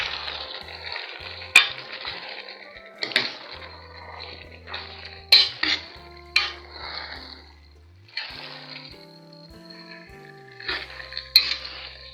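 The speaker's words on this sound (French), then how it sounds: "Je remue bien" Red beans being stirred as they fry in a metal pot, a steady crackling sizzle broken by repeated clinks and scrapes of the spoon against the pot, close and fairly loud.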